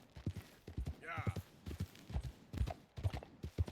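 Horse hooves clip-clopping in a video game, a steady series of short knocks running under talk throughout.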